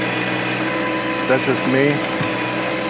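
A backhoe fitted with HydrosPlus cylinders runs steadily at about 2,500 RPM, a loud continuous engine and hydraulic drone with a brief whine of the hydraulics, while someone talks briefly over it.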